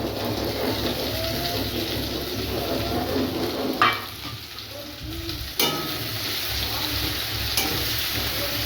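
Onion, ginger and tomato masala sautéing in a pan for chicken curry, a steady soft sizzle with occasional stirring scrapes and a couple of sharp utensil knocks.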